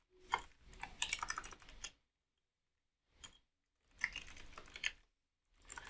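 Bursts of computer keyboard typing while entering plotting code, clicking in quick irregular runs separated by short pauses, close and fairly quiet with no talk.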